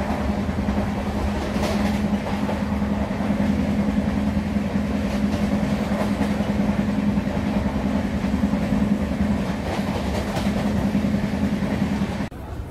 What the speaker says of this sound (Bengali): এটা রাঁচি পুরুলিয়া হাওড়ায় ইন্টারসিটি সুপারফাস্ট এক্সপ্রেস।